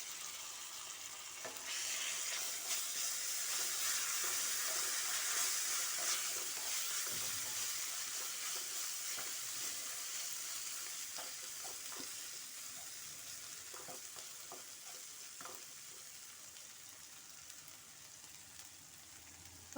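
Turmeric and ginger garlic paste fry in a pan, producing a steady close sizzle with occasional stirring scrapes that gradually softens over the span.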